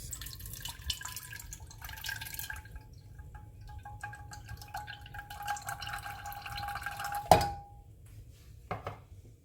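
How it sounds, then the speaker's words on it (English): Pineapple juice for a Jamaican-style ham glaze is poured out, a soft trickle and dribble with faint clinks of a container and one sharper knock near the end, quiet and close, with no voices. "I'm just gonna throw out the pineapple juice"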